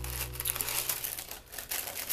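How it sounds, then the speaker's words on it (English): Gray paper wrapping on a Glossybox beauty box being unwrapped, a steady run of close crinkling and rustling paper with brief tearing sounds, no talking. "Let's unwrap this and see what we got."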